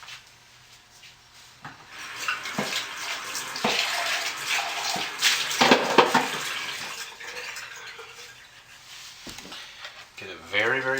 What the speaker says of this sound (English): Put our lye into our oils.